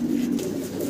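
Pair of Lahori pigeons cooing, a steady low throaty coo held close and fairly loud, with no talk over it.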